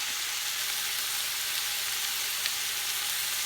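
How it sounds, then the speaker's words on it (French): Chicken pieces and onions sizzle in a pot, a steady, bright frying hiss with small occasional pops, close and continuous, with no voices over it. "le poulet qui s'amuse avec les oignons dans la casserole"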